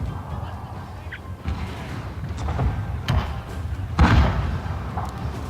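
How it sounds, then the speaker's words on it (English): Cannons, including Armstrong guns, fire in a Total War: Shogun 2 Fall of the Samurai battle, with several dull booms and thuds spread over a dense bed of battlefield noise, the loudest blast near the end. "my cannons keep firing"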